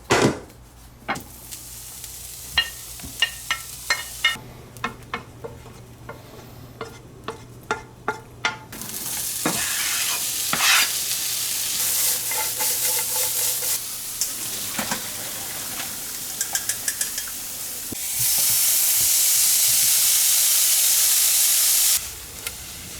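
Food sizzles in a hot, oiled frying pan while being stirred, with loud steady frying hiss broken by sharp clanks of a utensil against the pan and bursts of steam.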